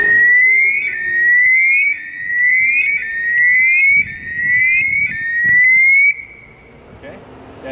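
A firefighter's PASS device sounds a loud, piercing alarm of repeated rising electronic chirps in steady pulses for about six seconds. It cuts off near the end, leaving quieter background noise with some faint voices.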